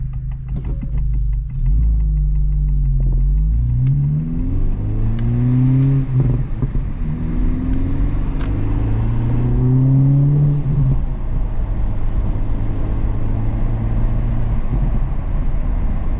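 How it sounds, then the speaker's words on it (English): A Honda Civic Type R FL5 with 16,500 miles, Hondata tuned with a burble map, idles while warming up, then blips the throttle in several rising revs before settling into a steady low drone. "Let the car warm up a little bit more."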